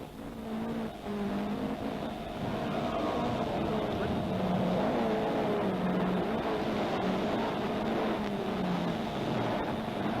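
Rally cars racing on a stage of the 1982 Cork 20 Rally, a continuous engine roar that swells and shifts in pitch as a car works through a corner, heard from a distance under a steady wash of noise.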